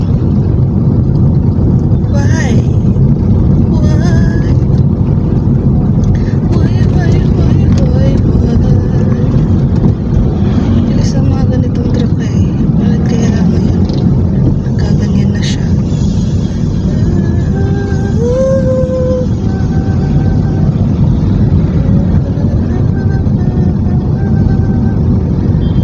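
A motorized tricycle's engine drones loudly and continuously nearby, mixed with wind buffeting, while people talk over it.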